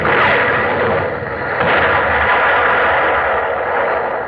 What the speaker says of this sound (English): Open fire, Mr. Quinn!